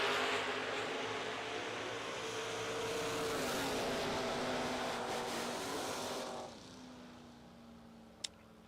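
Drag racing cars, including a Camaro, thunder down the strip in a sustained loud engine roar that fades as they pass into the distance, leaving quieter background noise and one sharp click.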